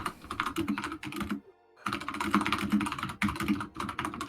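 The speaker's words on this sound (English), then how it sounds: "He's typing." Rapid computer keyboard typing during a tabletop D&D session: a dense, close run of clicking keystrokes, briefly pausing around the middle before resuming steadily, with no talking.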